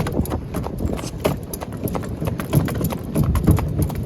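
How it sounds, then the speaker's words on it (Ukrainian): Hooves of a heavy draft mare clop in an uneven walking rhythm on hard ground, fairly close, with faint rustling around them and no talking. "так кобила ходить. Гордо ходить"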